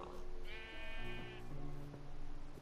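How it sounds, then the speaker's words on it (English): Sheep in the Minecraft video game bleat twice, clear and close, with wavering nasal cries over soft background game music and no talking. "Sheep."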